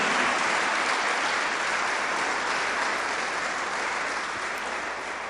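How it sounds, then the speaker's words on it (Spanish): Church congregation clapping and applauding together at a worship service, a dense continuous wash of many hands that holds steady and fades slightly toward the end, with no talk over it. "Démosle palmas al Señor por eso, hermanitos."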